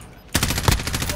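Automatic weapon fire in Call of Duty: Warzone rattles close and loud in a rapid, evenly spaced stream of shots that starts abruptly after a brief quiet moment.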